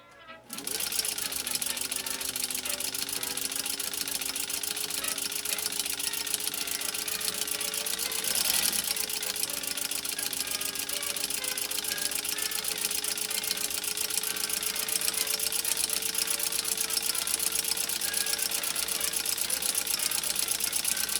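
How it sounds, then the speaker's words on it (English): A Singer 15-91 sewing machine fitted with an automatic zigzagger runs a cam-generated stitch, a steady close mechanical whir with rapid needle clatter held almost unbroken for about twenty seconds, with no talking. "here's our next cam generated stitch through this Singer automatic zigzagger"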